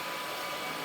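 An Evo Hydromop vacuum and mop brush on an Evolux Max cleaner runs with a loud, steady, close whoosh of motor and airflow throughout the short moment.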